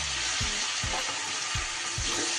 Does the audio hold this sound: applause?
no